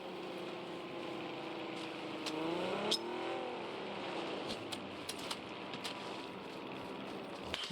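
A car driving in PUBG, with a steady engine drone that rises and falls in pitch as it revs, and sharp clicks and thumps scattered over it, heard with no speech.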